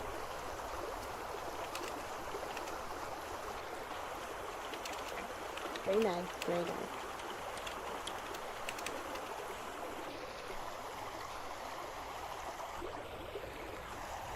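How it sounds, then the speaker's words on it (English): Stream water flows continuously in the video game Vintage Story, a steady loud rushing wash throughout, with people briefly talking over it. "Everything's very loud because of the water."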